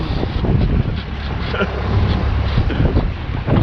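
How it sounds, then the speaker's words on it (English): Strong wind gusts buffet a sailing boat at sea off the UK near the Orkneys, a loud continuous rumbling roar with water and hull noise and no clear break. "the wind's just picked up from nowhere"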